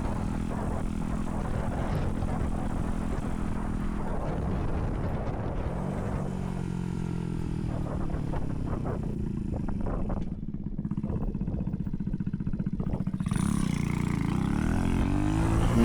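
An RPS Racer Z40 small motorcycle with a race cam running during a ride, a loud steady buzzing engine drone that shifts pitch as it revs and slows, with wind rush growing near the end.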